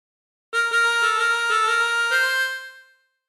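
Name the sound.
Family Guy theme phrase on chromatic harmonica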